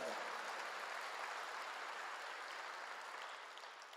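Church congregation applauding during a sermon: continuous, dense clapping from many hands that holds steady for several seconds, then slowly tails off toward the end, with no voices.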